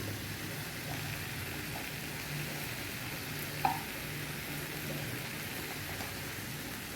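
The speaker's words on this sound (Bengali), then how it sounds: "এবার আমি চিংড়ি মাছগুলো দিয়ে দিচ্ছি।" Shrimp dropped into a pan of oil with taro stems, giving a steady soft sizzle throughout, with one brief sharper crackle near the middle; no talking.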